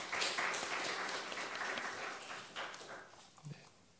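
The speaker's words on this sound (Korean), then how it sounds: "박수로 환영하시겠습니다" A church congregation applauds faintly during a Sunday worship service, a soft spread of clapping that slowly fades away.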